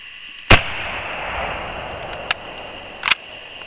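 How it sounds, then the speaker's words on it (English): An M44 Mosin Nagant rifle fires one sharp, loud shot, followed by two fainter, shorter cracks, all over a steady background hiss. "It's a loud gun."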